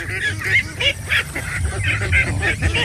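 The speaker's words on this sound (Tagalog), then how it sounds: "Yan ang mga itik ko." Domestic ducks kept on a Philippine duck farm give a rapid series of loud, nasal quacks and honks close by, about a dozen overlapping calls in quick rhythm over faint background noise.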